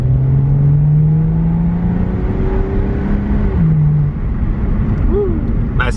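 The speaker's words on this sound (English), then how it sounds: "these little throttle blips on the downshifts there" A BMW engine with an XHP transmission tune drones loudly from close by, its pitch dropping as quick throttle blips punctuate each downshift.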